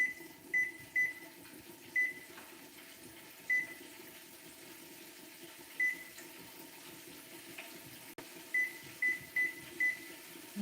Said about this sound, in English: We're gonna put our timer on for about what,